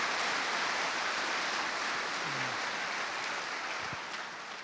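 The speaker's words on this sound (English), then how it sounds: "I'd like to give Jeff a round of applause" An audience at a high school centennial celebration applauds in a dense, steady wash of clapping heard from across a large hall, gradually thinning and fading toward the end with no talking.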